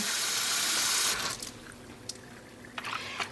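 Leftover acid dye bath water, nearly spent with a faint trace of green, poured out after speckle-dyeing wool roving: a steady, loud gush for about a second, then quieter trickles and a few small splashes.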